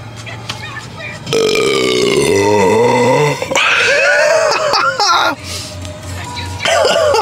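A man burps loudly after chugging a drink: a long, deep, drawn-out belch followed by a second shorter one, with brief voices between them.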